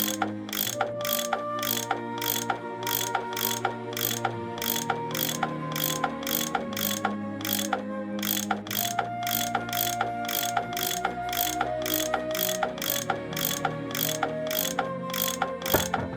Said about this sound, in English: I bet that's what you use to unscrew these bolts